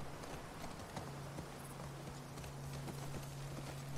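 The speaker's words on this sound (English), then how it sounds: "See if the horse will run up." Horse hooves clip-clop steadily in The Last of Us Part II, a soft, regular gallop-like patter under a constant low hum of game ambience, with no talking.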